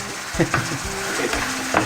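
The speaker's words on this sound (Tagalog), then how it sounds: "Haluin nyo lang ng haluin hanggang sa magmantika na siya" Beef shank kare-kare stirred in a pan over low heat, a soft steady sizzle with a few scraping spoon strokes close up, no voices.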